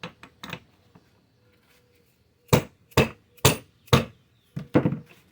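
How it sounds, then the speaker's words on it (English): A hammer strikes metal parts of a 6.0 LS V8 engine being torn down, knocking a piston and rod assembly out: a few light taps, a pause, then a series of loud, sharp whacks close by. "Give it one more whack."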